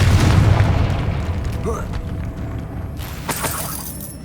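A Confringo fire spell in Hogwarts Legacy explodes with a deep, heavy boom, then crackles and shatters away into a rumbling tail, with a brief bright burst near the end.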